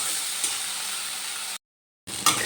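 Brinjal and drumstick flowers fry in a hot pan with a steady, even sizzle that breaks off briefly, then returns with a short stirring scrape.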